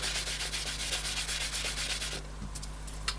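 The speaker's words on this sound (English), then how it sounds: "Give that a good scrub again, and there we go." Rapid back-and-forth scrubbing on a homemade copper circuit board to knock off burrs, a dense run of close abrasive strokes over a low electrical hum that stops abruptly, followed by a few light taps.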